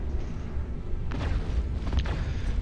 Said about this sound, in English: And I lose a wing right there hitting that debris.